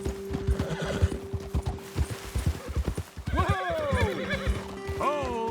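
Horses in Red Dead Redemption 2 snort and whinny with rising, wavering calls near the end, over a steady run of clip-clopping hooves throughout, close and fairly loud.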